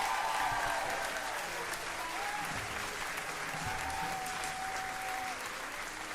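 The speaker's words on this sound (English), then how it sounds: "And the crowd goes wild!" Crowd applause played from a soundboard during a tabletop game session, a loud, steady wash of clapping and cheering lasting several seconds.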